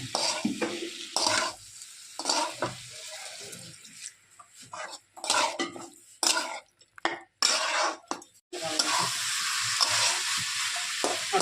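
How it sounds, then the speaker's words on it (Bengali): Bottle gourd with chilli powder stir-fried in a pan sizzles loudly, broken by repeated scraping stirs of a utensil against the metal, ending in a steady hissing fry. "লাউটা ভাজা ভাজা হয়ে গেছে, এখন লঙ্কার গুঁড়াটা দিয়ে দিলাম, দিয়ে ভালো মতো কষিয়ে নেব।"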